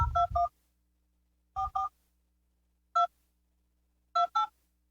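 Telephone keypad tones, dialing into an automated phone menu: short dual-tone beeps in clusters of three, two, one and two, crisp and close, with silence between and no talking.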